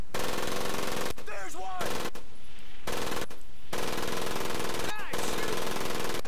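Rapid bursts of machine gun fire from a World War II Pacific combat video game, loud and continuous and mixed with other gunshots, with shouted voices cutting in briefly.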